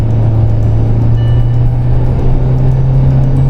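A 2022 Hyundai Tucson fourth-generation diesel SUV accelerating hard to overtake, with a steady, loud engine drone and constant road rumble heard from inside the cabin without a break.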